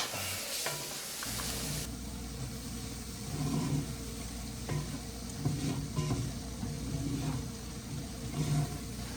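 Minced garlic sizzles in a roux for a deer meat stew, a steady close frying hiss with scraping stir strokes throughout.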